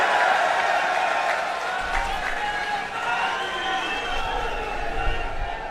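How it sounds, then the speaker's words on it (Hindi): A rally crowd applauds and cheers for Arvind Kejriwal in Rajasthan, a steady wash of clapping and chatter that carries on under a speaker's voice throughout. "जोरदार तालियां अरविंद जी के लिए।"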